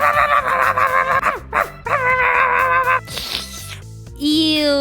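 An electronic Uggly's pug puppet toy dog gives off synthetic, squeaky yaps and whimpers in a few bursts, close and loud, with a person speaking around it.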